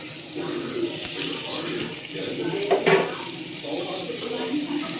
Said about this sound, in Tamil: சிக்கன் வேக வச்ச தண்ணியில் கொஞ்சமாக ஆட் பண்ணிக்கலாம்